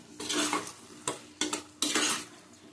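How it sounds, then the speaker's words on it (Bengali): Soybean curry with egg fritters being sautéed in a pan, heard as a few distinct scraping stirs of a spatula against metal over a light sizzle, close up and with no speech. "ভালো করে কষিয়ে নেব।"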